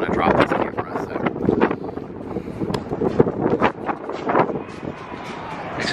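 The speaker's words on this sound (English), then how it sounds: "It is like so windy outside." Gusty wind on a high balcony in Las Vegas rushes and flutters loudly against the microphone in uneven bursts, with a voice faintly mixed in.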